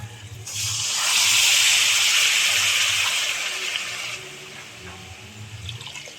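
Two and a half cups of water are poured into a pan of softened vegetables while making rava kichadi, a loud, rushing splash that swells for about four seconds and then tapers to a faint trickle.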